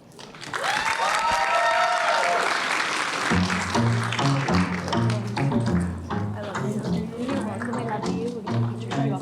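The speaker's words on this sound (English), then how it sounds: "Get another round of applause, guys, for that speech." Wedding reception guests break into loud, sustained applause after a speech, dense clapping filling the hall with cheers, while music with a steady beat comes in underneath partway through.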